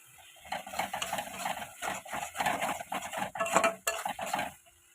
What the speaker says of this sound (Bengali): মশলাটা আমি অনেকক্ষণ ধরে সুন্দর করে কষিয়েছি